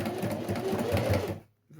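Sewing machine running a quick burst of stitches along a 7 mm seam, close and steady rattling for about a second and a half, then stopping, with a brief restart at the end, no voices.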